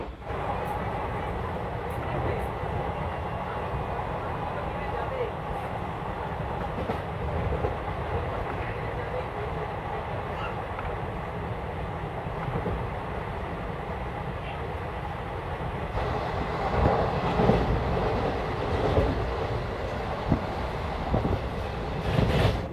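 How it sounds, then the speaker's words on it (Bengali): Onboard the Gour Malda Express between Malda and Sealdah, running at about 110 km/h: a steady, loud rumble of wheels and carriage fills the whole stretch, swelling slightly near the end, with continuous rattling and no clear talk. "ট্রেন আমাদের যাচ্ছে একদম তার টপ স্পিডে 110 স্পিডে"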